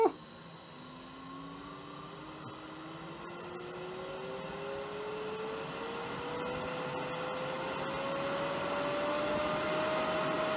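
A high-speed workshop tool motor whirs steadily at about 3,500 RPM, its pitch climbing slowly as it spins up, a loud continuous jet-like whine with no talking.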